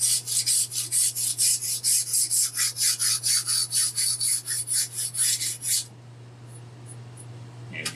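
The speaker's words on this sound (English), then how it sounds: "I'm going to get my flat file and lightly remove the burrs" A flat file rasps along a metal chainsaw roller guide bar to remove burrs, about two dozen rhythmic scraping strokes at close range, then the filing stops and only a low steady hum remains.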